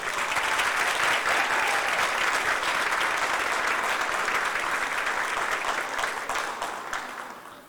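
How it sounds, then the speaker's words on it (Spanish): Steady applause from an audience at a community gathering on the new constitution in San Vicente de Tagua Tagua, indoors, with no voices, holding an even level before tapering off at the end. "les damos a todos el más cariñoso aplauso"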